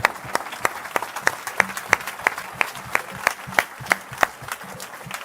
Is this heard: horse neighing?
no